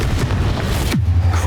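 A Bombarda spell explodes in Hogwarts Legacy on the Switch. A dense, crackling rumble ends in a single heavy boom with a falling tail, followed by a low, steady hum.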